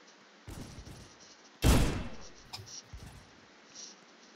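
A few scattered gunshots in a Wild West revolver game: one heavy close bang stands out among fainter, sparser shots before and after, with talk faintly underneath.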